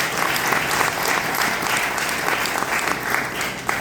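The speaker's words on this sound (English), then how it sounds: "Can you clap for yourselves, please?" Dense, steady applause from an audience at a Kenya–America partnership gathering, sustained at an even level for the whole stretch with no voices rising above it.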